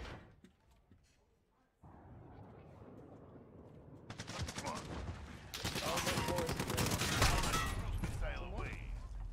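Gunfire in Call of Duty: rapid automatic bursts of shots grow denser and louder over a mechanical game din, close and sustained through the second half, with a voice speaking in places.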